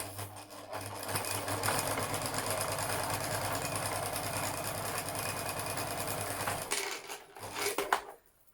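A sewing machine stitches two fabric pieces of a face mask along a curved seam, a fast steady whirring chatter for about seven seconds before slowing and stopping with a few closing clicks.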